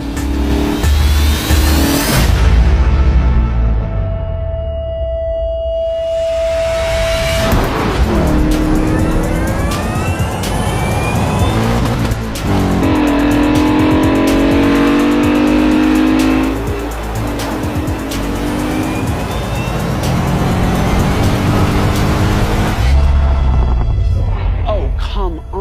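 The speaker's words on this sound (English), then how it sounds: "And here it comes at 70 miles an hour, V8 screaming." A BMW M5 E39 with a V8 engine drag racing a Lucid Air and a Tesla Plaid, loud revving and accelerating engine with tire squeal, rising and falling pitch sweeps as cars pass, a voice speaking over it.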